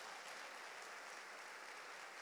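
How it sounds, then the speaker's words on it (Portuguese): A congregation claps together at a church sermon, a faint, even wash of many hands that sounds distant and holds steady for a couple of seconds. "Vamos aplaudir."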